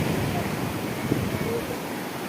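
Sea waves at high tide wash in at Digha Mohana beach, a crowded tourist shore with rocks nearly submerged, a constant rushing surf roar mixed with wind buffeting and faint voices.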